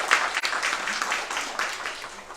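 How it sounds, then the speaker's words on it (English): A conference audience gives steady applause to a panelist named Chris at a bisexuality community event, a soft, even patter of many hands clapping together throughout at moderate distance. "Let's give Chris a round of applause as well."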